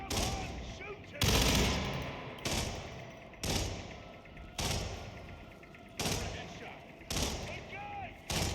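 Gunshots from the video game HITMAN World of Assassination, a handful of sharp single reports spaced about a second apart over a steady game-ambience bed.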